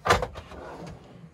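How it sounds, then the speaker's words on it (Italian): A large pull-out kitchen drawer in a Laika Ecovip L 3019 semi-integrated motorhome being opened, a sharp close knock followed by a short sliding rumble that settles quickly, with no one talking. "guardate che bel cassettone estraibile con tutta la zona dei cassetti"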